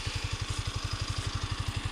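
A 2022 Yamaha MT-125 stock motorcycle engine idles with a steady, rapid low thumping pulse, close and even, no voices.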